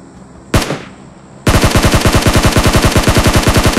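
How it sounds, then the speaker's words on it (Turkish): SCAR rifle fire in the video game PUBG Mobile, a single sharp shot with a trailing whoosh, then a loud, rapid, evenly rhythmic full-auto burst sustained to the end, close and without speech. "Oo Scar neler yapıyorsun?"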